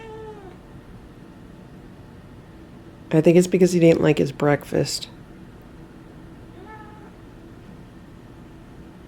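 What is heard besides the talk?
cat meowing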